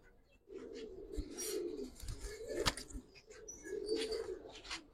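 Giribaz pigeons in a loft give soft, low coos in repeated bouts, with bursts of wing flapping and small knocks nearby, the sounds faint and close.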